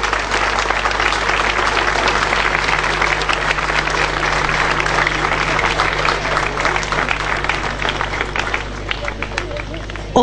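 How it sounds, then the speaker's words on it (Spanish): Strong, dense applause from a crowd at a school commemorative ceremony at IPET 260 Industrial, continuous clapping over a steady low hum for about ten seconds, easing slightly near the end. "Yo creo que se merecen un fuerte aplauso todas las personas que forman parte de esta memoria"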